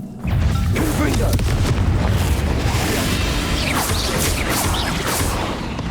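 A Confringo fire spell blasts off in the Hogwarts Legacy video game, a loud burst with whooshing streaks among a dense wash of game noise, with a voice in the background.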